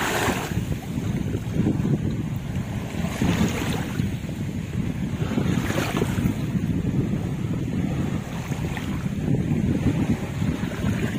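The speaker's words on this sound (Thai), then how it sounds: "คลื่นก็แรง" Strong sea waves surging onto a beach, a loud, continuous roar of churning surf with repeated rushing swells, heavy wind buffeting the microphone throughout.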